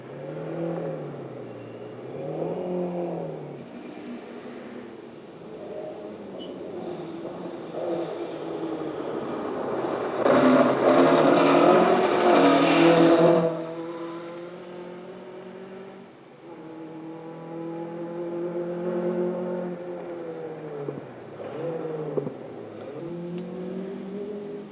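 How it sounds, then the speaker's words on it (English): Ford Escort Mark II rally cars race past on a rally stage, engines rising and falling in pitch as they approach and fade, with one loud, roaring pass in the middle before further revving. "Mark II escorts dominating the field."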